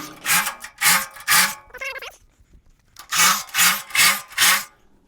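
Rhythmic hand sawing through wood, four quick strokes, a brief pause with a small rattle, then four more even strokes, close and loud.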